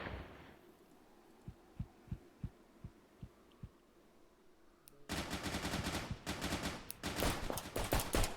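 Video game gunfire: a run of evenly spaced low thumps, then loud dense bursts of automatic fire close by.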